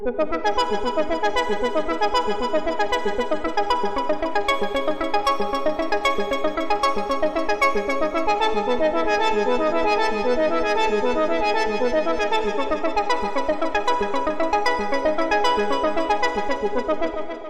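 A synthesizer arpeggio plays rapid, evenly spaced repeating notes in a steady loop, loud and continuous without pause.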